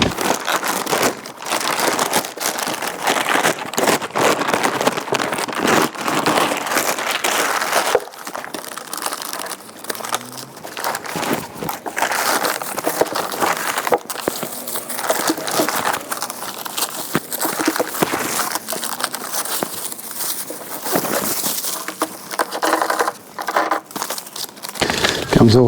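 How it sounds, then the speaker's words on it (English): A big plastic bag is pulled off a 25-litre long-range fuel tank for a Suzuki DR650, loud continuous crinkling and crumpling with sharp rustles throughout, with some talk in the background. "It's all wrapped up in this big plastic bag."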